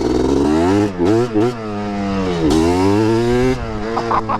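A Yamaha TRI-Z 250 three-wheeler's two-stroke engine revs hard and close up, rising and falling in pitch through several throttle blips and one long climbing pull, loud and raspy throughout.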